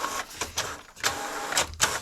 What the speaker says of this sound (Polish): Raport o stanie drukarki. Zobaczymy, czy zatnie, czy nie.